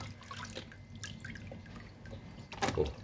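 Fish being rinsed in water in a basin: faint drips and soft splashing throughout, ending in a louder burst of pouring and sloshing water.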